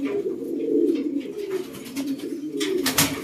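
Breeder pigeons in a loft coo nearby in low, throaty, rolling calls that continue for a few seconds, with light rustling and a sharper clatter near the end. No one speaks.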